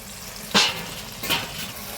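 Ginger paste hitting hot oil in a pan, giving two short, loud sizzling bursts about a second apart that settle back into a low frying hiss.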